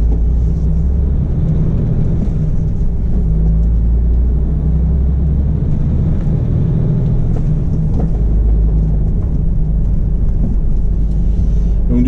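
Truck engine rumbling steadily as the vehicle drives around a roundabout, a loud, continuous low drone heard from inside the cab, with some faint talk.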